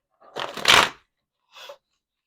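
Tarot cards are shuffled in hand, a quick papery riffle lasting under a second, then a brief softer second flutter after a short pause, close and clear with no talking.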